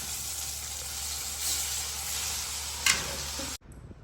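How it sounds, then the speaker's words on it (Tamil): Anchovies frying in hot oil, coated in garlic paste and corn flour, give off a steady, close sizzling hiss that runs evenly for several seconds before cutting off abruptly. "நல்லா கம்மன்னு சூப்பராக வந்து நெத்திலி மீனை பொரிச்சு வந்துட்டோம்"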